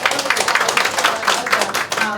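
An audience at a launch event for a charity self-drive road trip in the Greater Bay Area claps in a loud, rhythmic patter of many hands that continues throughout.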